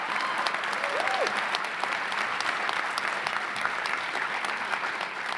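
A convocation audience breaks into sustained applause, dense continuous clapping throughout with a faint voice briefly audible beneath it.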